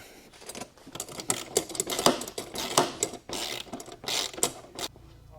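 Bolts being tightened on Polaris adapter plates with a ratcheting tool, close-up bursts of quick metallic clicks in uneven spurts, with no talking.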